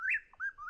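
A single whip-poor-will calls once at night, a brief clear whistled phrase of quick sliding notes, fairly close and alone.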